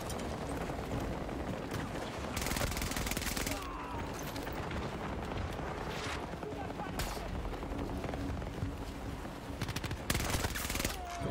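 K-38 gunfire in a shooter video game: repeated bursts of loud, dense rapid shots with noisy cracks spread across the whole span, broken by brief lulls and accompanied by crunchy mechanical clatter.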